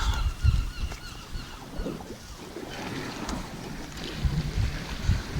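A seagull tangled in braided line while mackerel fishing gives harsh, honking squawks in short bursts, close up, over splashy water and rustling noise.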